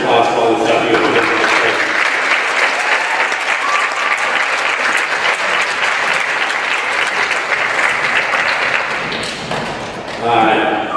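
Loud, sustained applause fills a school band and orchestra concert hall, a dense crowd of clapping hands near the listener that tapers briefly before voices return at the close.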